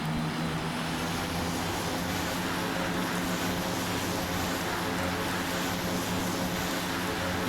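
Engine of a King Air 260 twin turboprop in a flight simulator game during its takeoff roll, a steady loud droning hum with a constant tonal whine, unbroken for the whole stretch with no talking.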